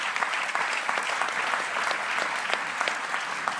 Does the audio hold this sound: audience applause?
yes